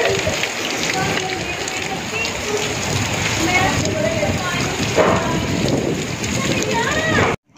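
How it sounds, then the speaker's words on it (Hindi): Heavy rain pounds down at night as a steady, dense wash of drops on surfaces, continuous and loud throughout, ending abruptly at the close. "ये जी रात के टाइम बारिश शुरू हो चुकी है, बहुत ज़बरदस्त बारिश हो रही है।"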